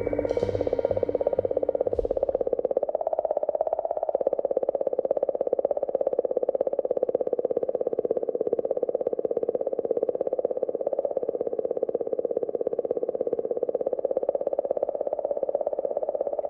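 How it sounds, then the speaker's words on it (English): Comet 67P's so-called singing, recorded by the Rosetta probe in space: a steady eerie warbling hum that wavers continuously, with a brief clicking, rustling start before settling into an unbroken drone. "Some are a little stranger, like the sound of this singing comet."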